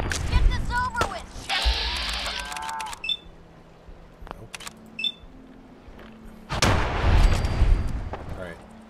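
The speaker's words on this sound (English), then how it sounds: "There is too much gunfire over there." Gunfire in the video game Fallout 4 comes as scattered sharp bangs and heavier booms, some close and some distant, with a dense burst near the end over game noise and a speaking voice.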